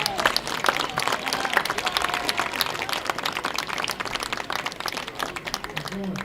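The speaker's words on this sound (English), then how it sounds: "Big overall round of applause for our seniors one last time." Crowd applause for seniors at a high school football game, dense clapping and cheering from a large gathering in the stands, sustained and loud throughout with voices mixed in.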